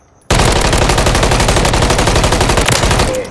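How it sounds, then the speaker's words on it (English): Rapid automatic fire from the MCW assault rifle in Call of Duty Warzone 3, a loud, steady stream of shots lasting about three seconds after a brief quiet start, with no talk over it. "This is the MCW. I'll just show it off quickly."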